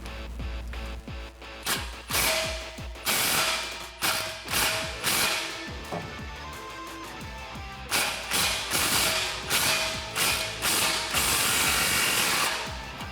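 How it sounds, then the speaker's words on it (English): Ratchet with a 15mm socket snugging an exhaust clamp on a Borla dual exhaust for a 2019-2022 RAM 1500 5.7L; sharp, rhythmic clicking strokes in quick bursts separated by short pauses, close and clear with no talking. "loosely secure this with a 15mm socket"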